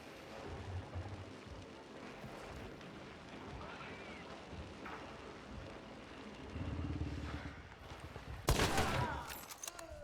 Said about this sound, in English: So I hear the gunshot, and it literally coming somewhere not too far from my right